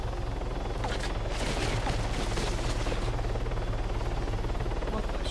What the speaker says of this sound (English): I would say that was gunfire, sir.